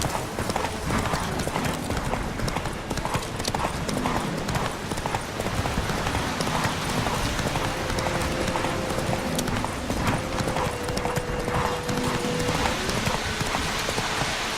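Roach the horse galloping in The Witcher 3, with a rapid steady clip-clop of hooves running loud and continuous over a rain-like patter throughout.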